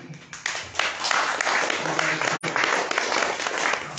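An audience at a Ramadan religious lecture claps in a lively, dense burst of applause that holds for a few seconds, briefly cut by a short gap before resuming at full strength.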